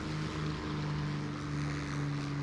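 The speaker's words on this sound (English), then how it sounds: "we're just flying over the top, as you do, in a British KittyHawk" A British P-40E-1 Kittyhawk propeller fighter in War Thunder flies over a small village, its engine a steady, even drone that holds unchanged throughout with no voices.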